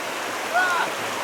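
Mountain stream water rushing at a river crossing on a hike to a polonyna, a steady broadband wash with a short whistle-like tone briefly over it.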